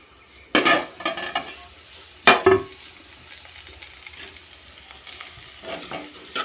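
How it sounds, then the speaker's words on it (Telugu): Carrots frying in a pan over a medium flame for a carrot curry, with a few sharp stirring and scraping bursts over a low, steady sizzle, fairly close and with no talk. "మీడియం ఫ్లేమ్లో వేసి ఒక పది నిమిషాల పాటు ఇది ఫ్రై కావనివ్వాలి"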